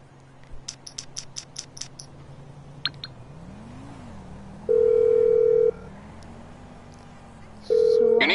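Telephone dialing and ringing in GTA 5: a quick burst of keypad tones, then a steady ring tone pulses twice amid game background hum, with a low voice-like drone underneath.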